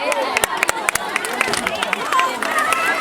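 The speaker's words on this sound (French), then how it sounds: "Voilà vos applaudissements." An audience applauds after a poem recited by women teachers at a March 8 celebration: dense, fast clapping from many hands, sharp close claps standing out over a murmur of crowd chatter.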